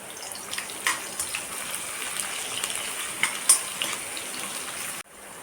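Chopped onion, ginger, garlic and green chilli frying in a pan over a medium flame for dhaba-style palak paneer, a close, steady sizzle with small pops and stirring clinks, ending abruptly.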